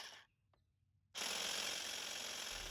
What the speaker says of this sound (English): Seems like a pretty standard hedge trimmer to me.